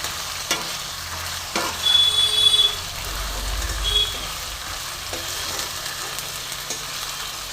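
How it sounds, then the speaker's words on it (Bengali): Ginger, garlic and white cumin masala frying in a pan for a spicy fish curry, a steady soft sizzle with occasional stirring scrapes, fairly quiet and close, with no talking. "এবার খুব সুন্দর করে কষবো, ভালো মতন কষবো।"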